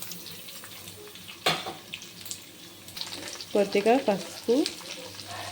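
Chopped radish sizzles in a pan for a chutney, a faint frying hiss running under a few clinks and short bursts of speech in Telugu.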